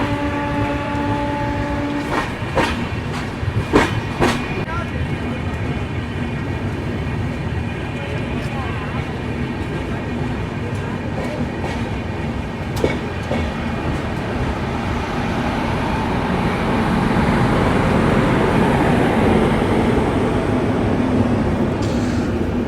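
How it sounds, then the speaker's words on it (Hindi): Rajdhani Express passing at Jakhlaun railway station near Lalitpur: continuous heavy rail rumble with several short horn blasts early on, the roar swelling louder toward the end. "तो राजधानी का अपना एक और ओवरटेक इस जर्नी का हो गया यहाँ पर जाखलौन"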